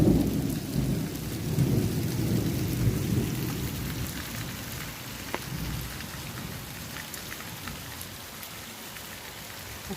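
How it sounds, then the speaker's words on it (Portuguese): Heavy rain pours down steadily in Taperoá, Paraíba, Brazil, with a low rumble of thunder rolling under the dense hiss of drops striking surfaces nearby. "Tá chovendo muito aqui em Itaperoá."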